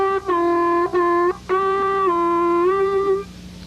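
Three sustained harmonica notes drawn on the 2 hole, each bent down and wavering before release, the last held long, played close and loud with no voices.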